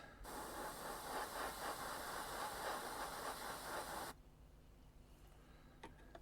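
Spray paint hisses from a can onto a 1/72 scale model tank wheel in one continuous burst lasting about four seconds, close and steady, then stops abruptly, leaving a faint quiet background with a small tap.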